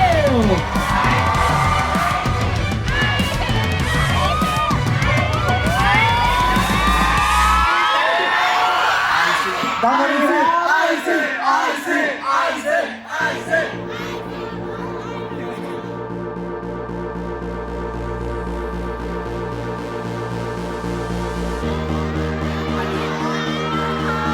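A big crowd cheers and screams loudly for several seconds at a pre-debut idol event in Thailand, then the noise gives way to music with a steady beat.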